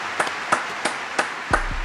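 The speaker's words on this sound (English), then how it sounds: "Everybody give a round of applause for Rob." Sparse, brief applause for a podcast guest: about five or six sharp, evenly spaced hand claps, close and fairly loud, with no talking during them.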